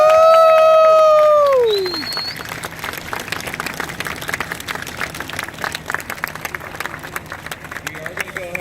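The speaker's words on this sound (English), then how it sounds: "If we could get a big round of applause." At a firefighter academy graduation, a voice whoops, then a crowd breaks into sustained, lively clapping that carries on to the end, with faint voices returning at the close.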